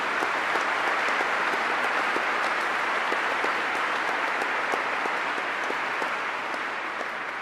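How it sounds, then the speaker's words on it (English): Applause from an audience in the UK for Ukrainian president Zelensky, a steady, even clapping from a large crowd that continues at constant strength for the whole span. "All applause for you."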